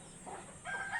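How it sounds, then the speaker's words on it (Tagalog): Farm chickens cluck and begin a rising crow over a busy, noisy rural background, with the call growing louder toward the end. "pasensya na kayo sa ingay ng mga manok."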